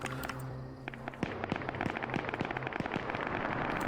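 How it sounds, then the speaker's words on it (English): Rapid gunfire crackles through an Arma 3 battle over a flag capture zone, with many sharp shots and overlapping bursts, some close and loud, others farther off, continuing steadily throughout. "Lots of fire now coming onto the capture zone itself from the MSR"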